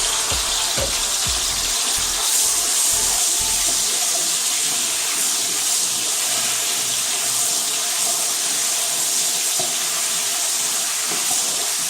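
Beef for Haitian bouillon stew cooks in a pot, giving off a steady, close sizzling hiss with faint bubbling that runs unbroken throughout, with no voices.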